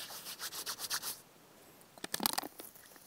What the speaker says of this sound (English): a bit of sand will help get that grit out.